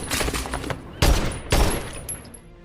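Gunfire in an action film shootout crackles in a quick volley at first, then two loud, close blasts about half a second apart, fading into a ringing tail.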